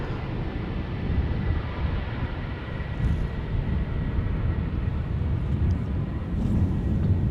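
A British Airways airliner at Schiphol Airport, a broad low rumbling jet roar heard from a distance, steady with slight wind buffeting on the microphone.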